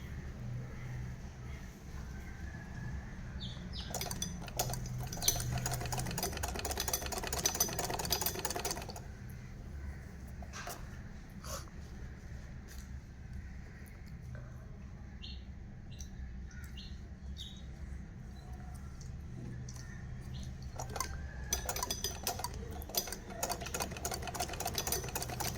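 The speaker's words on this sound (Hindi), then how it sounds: "बिल्कुल फिक्स सिलाई कर रही हूँ।" A sewing machine stitches fabric in quick rhythmic runs of rattling needle strokes, close and fairly quiet, stopping and restarting several times with short pauses and faint background chirps.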